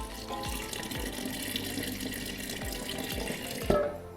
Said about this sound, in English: so I'm adding in the ice chilled water